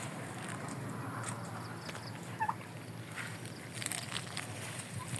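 Turkeys gobble briefly in a noisy outdoor setting, one short gobble standing out midway and more rustling calls near the end.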